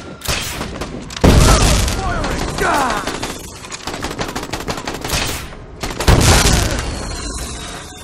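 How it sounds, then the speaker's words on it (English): Gunfire in Dead Rising 4 comes in loud, close bursts of rapid automatic shots with heavy booms, broken by short lulls, while characters speak between the volleys. "Firing!"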